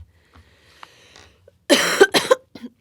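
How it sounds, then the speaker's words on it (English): A few soft sounds, then a sudden cluster of three or four harsh coughs close by, followed by a faint short exhale. "I guess I shouldn't cough into my hand"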